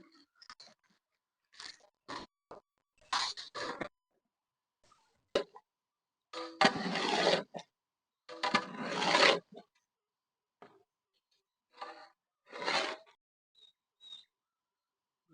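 A large pot of vegetable biriyani masala with soya chunks is stirred for a 13 kg batch, heard as irregular scraping and rasping strokes, some loud and some faint, separated by pauses.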